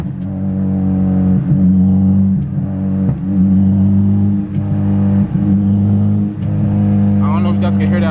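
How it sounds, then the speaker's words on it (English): Steady engine hum and road rumble from inside a moving car with a clunky noise, with periodic dips and bumps recurring every second or so across the drive. "we're driving now and it's still making a clunky noise"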